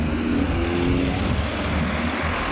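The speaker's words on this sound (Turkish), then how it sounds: "Otel'e geldiğimizde de trafik yoğunluğu çok fazla." Heavy car traffic streams along a road outside a stadium in Sakarya as a crowd of about 28,000 arrives in light rain. A continuous broad roar of engines and tyres fills the whole stretch evenly.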